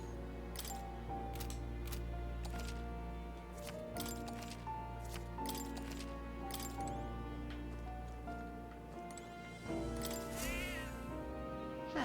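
A cat meows in the video game Metaphor: ReFantazio, a short mewing cry near the end that sits over steady background music and a run of sharp clicks.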